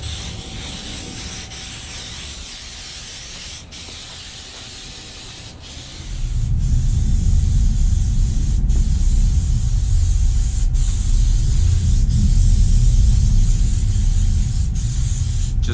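Coconut oil is sprayed as a mold release before fiberglass work on a 1982 Goldwing cafe racer rear cowl, a steady close hiss with faint rhythmic ticks that grows fuller and louder midway and continues to the end, with no talking.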